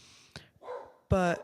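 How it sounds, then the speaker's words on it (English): A pet dog barks in a sharp burst near the end, loud and close, with a brief bark earlier and a voice speaking in between. "Sorry that you can hear my dog barking."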